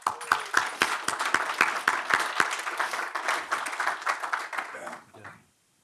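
An audience applauds to welcome Steve Nelson onto the stage at a lecture event, with dense, steady clapping that fills the room for about five seconds and then fades out quickly.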